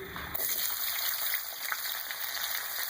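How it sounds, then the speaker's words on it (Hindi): Two medium onions frying in hot oil in a pan, giving a steady, close sizzle that stays even throughout with a brief louder onset. "मैंने ऑयल लिया है। इसमें सबसे पहले 2 मीडियम साइज़ की प्याज में ऐड करूँगी"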